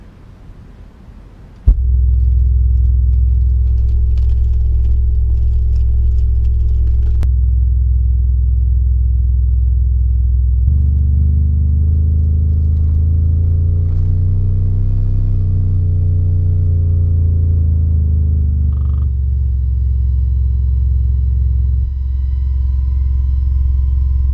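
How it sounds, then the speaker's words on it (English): A Soundstream X5 12-inch subwoofer plays a bass frequency sweep starting at 20 Hz, a loud continuous low rumble that climbs and shifts in pitch over about twenty seconds, with no voices. "Alright, let's do some sweeps. Let's start out at 20 hertz."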